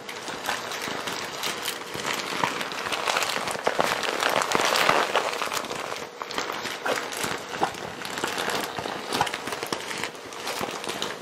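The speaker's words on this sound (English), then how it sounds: "Makeup brushes." Close-up crinkling and rustling of a plastic bag holding makeup brushes, a dense, steady crackle of handling that swells and eases over several seconds.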